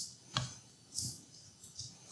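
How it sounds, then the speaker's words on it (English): A utensil stirs a bowl of flour, baking powder and salt for muffins in a few soft scraping and tapping strokes, faint and close with quiet gaps between them. "We're gonna go ahead and give that a quick stir"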